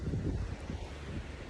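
Wind buffeting the microphone over steady Pacific Ocean surf on an island beach in Panama, a continuous broadband roar with rumbling low end and no speech.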